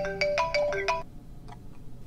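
A phone ringtone plays a quick five-note electronic melody, bright and fairly close, then stops, leaving only faint soft chirps against low background noise.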